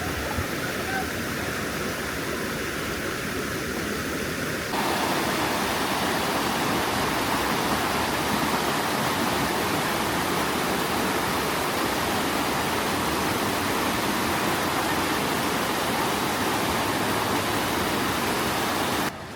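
River rapids in the Great Smoky Mountains rush in a loud, dense, continuous roar of white water, steady from start to finish with no distinct voices standing out.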